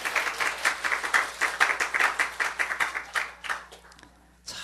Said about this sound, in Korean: 공정한 판정 내리신 하나님께 박수 한번 올려요.